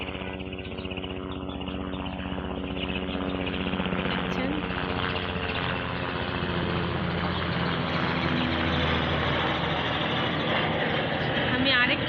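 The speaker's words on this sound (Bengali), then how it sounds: "আপনারা হয়তো কবুতরের শব্দ, গাড়ির শব্দ, প্লেনের শব্দ অনেক কিছুই পাচ্ছেন" A propeller airplane drones overhead in a city setting, a loud, steady engine hum that swells slightly toward the end and continues throughout without interruption.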